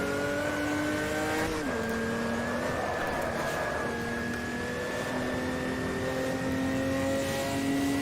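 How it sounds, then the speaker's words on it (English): An Opala Stock Car from 1986 in Automobilista, on the Mendig Flugplatz Bergschleife track, whines steadily at high revs. A brief rough grinding sits near the start, after which the engine note holds and slowly climbs. "Misshifted, grinding the gearbox."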